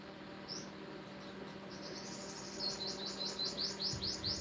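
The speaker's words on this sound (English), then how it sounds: "Can you guys hear the birds chirping behind me?" Birds chirp and tweet in the trees, a busy series of short, bright repeated calls building in the latter half over a steady background hum, fairly close and clear.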